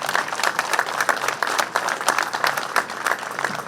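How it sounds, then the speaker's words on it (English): A crowd at a union street-naming ceremony applauds for Vic with dense, sustained clapping that stays steady and moderately loud throughout, with no voices standing out. "let's give Vic a round of applause too"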